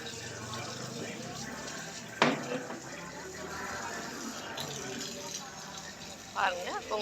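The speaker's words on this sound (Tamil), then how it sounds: "உங்க யூடியூபர் கால் கழுவிட்டு இருக்காங்க" Water pours steadily from a temple tap as feet are washed at a Singapore temple during Soorasamharam. The flow is close and continuous, with a few louder splashes and voices talking over it.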